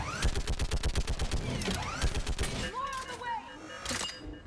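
Rapid bursts of a mounted gun firing in Mass Effect 3, loud and close with a steady rattling rhythm through the first half, then fading into softer game effects, while a voice talks over it.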